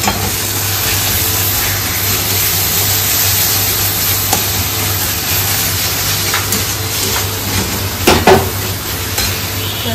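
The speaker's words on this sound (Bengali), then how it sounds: "অল্প একটু জল দিয়ে মশলাটা ভালো করে কষানো হোক।" Spice paste and onions being sautéed in a pan, a steady loud sizzle running throughout with occasional scraping stirs near the end.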